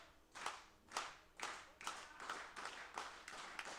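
Wrestling crowd at a Monster Factory pre-show clapping in unison behind a rookie, eight or so evenly spaced claps in a steady rhythm, fairly distant and quiet.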